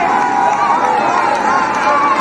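Loud, steady crowd roar and chatter from spectators at a Jamaican schoolboy football match between York Castle High and Seaforth High, a dense continuous wall of cheering and hubbub with no breaks.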